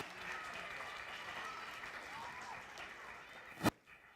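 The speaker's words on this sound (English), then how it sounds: "Let's give Hugh a big round of applause" Applause from an audience at a magic show, heard as a faint, even wash of clapping from a distance, with one sharp thump just before it dies away.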